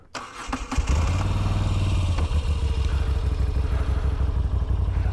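A motorcycle engine with a Heel-Tech Thunderbox exhaust cranks and catches, then settles into a steady, loud, pulsing idle close by.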